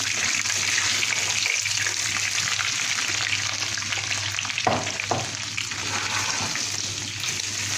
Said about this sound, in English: I'm going to start frying my mushrooms.